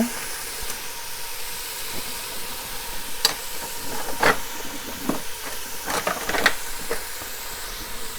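Venison browning in a hot pot over medium-high heat: a steady, soft sizzle and hiss throughout, with occasional louder crackles and pops from the meat, close by.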